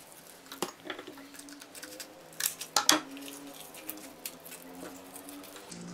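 Dried chiles being cleaned by hand in a home kitchen, veins and seeds pulled out: sparse, crisp crackles, snaps and light taps, quiet and close, with no talking.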